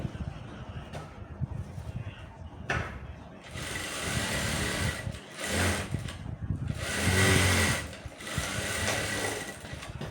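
Sewing machine stitching dress pants runs in several loud mechanical bursts, whirring in short runs separated by brief pauses, close by, with a little quiet background sound between runs.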